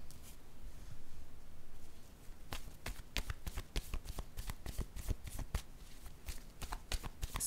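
A deck of cards is shuffled for a tarot-style reading, close and crisp, in a run of rapid riffling bursts after a quiet start, with no talk over it.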